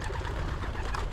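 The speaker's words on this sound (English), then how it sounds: "He's a cracking pigeon, he really is." A young cock pigeon coos in a garden loft, a soft, low murmuring throb heard close up against a dense background.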